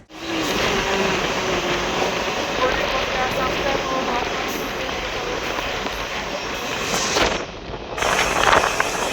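The Malda Court to Siliguri DEMU passenger train (75719) rumbles along near Naxalbari, a loud continuous roar of engine and wheels on track, recorded from on board with a faint high whine above.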